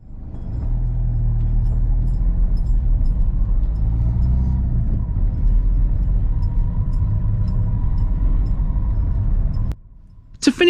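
A car drives along a country road near the village of Kirkby Overblow, its steady engine rumble and road roar loud and continuous before cutting off near the end.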